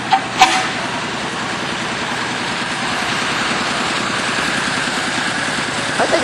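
Old cars rolling past in a small-town vintage vehicle parade, a steady close engine drone and idle rumble with a couple of sharp knocks at the start and end.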